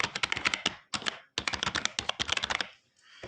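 Rapid keystrokes on a computer keyboard in two bursts of typing separated by a short pause, close and clear with no talking.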